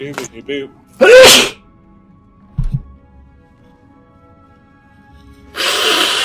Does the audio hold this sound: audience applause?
no